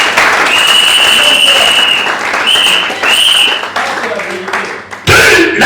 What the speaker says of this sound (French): On acclame pour le Seigneur.